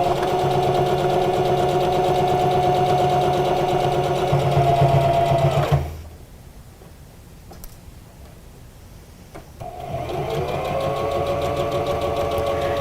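A sewing machine stitching around the perimeter of an Olson fabric face mask, humming steadily up close, stopping for a few seconds, then starting again and running on.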